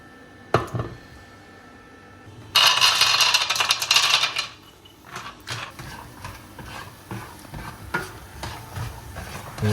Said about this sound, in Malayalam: ഇനി നമുക്ക് ഇതേ പാത്രത്തിൽ തന്നെ അണ്ടിപ്പരിപ്പും മുന്തിരിയും ഒന്ന് പഴട്ടിയെടുക്കണം.